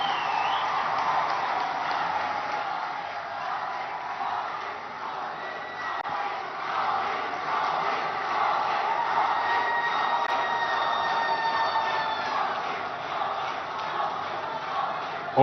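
A large crowd at a prime ministerial public meeting in Sambalpur, Odisha, makes a sustained, fairly distant roar of applause and cheering. A few thin whistle-like tones rise above it.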